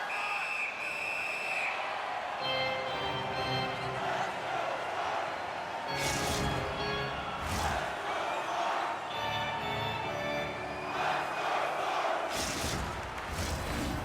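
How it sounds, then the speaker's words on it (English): A large hockey arena crowd cheers and roars steadily throughout an NHL game between Carolina and Dallas, loud and sustained with surging swells and a commentator talking over it. "You can feel the energy in this crowd."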